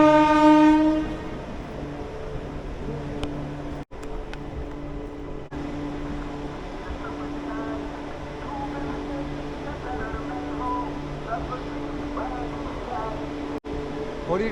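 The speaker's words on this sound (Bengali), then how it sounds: "এই যে শালিমার মুম্বাই ক্রস করছে।" A Shalimar–Mumbai express passes on the line near Kharagpur, its horn sounding long and loud at the start before a sustained rumble and rattle of wagons rolls by; voices murmur faintly in the background.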